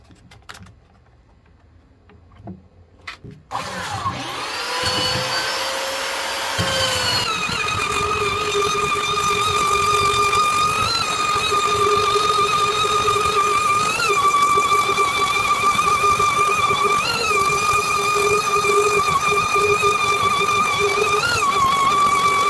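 Belt sander fitted with a 120 grit belt working across a wooden kitchen tabletop: after a few quiet seconds and some handling clicks, the motor whines up and runs continuously, loud and close, with a high droning tone and slight pitch wobbles as the sander moves.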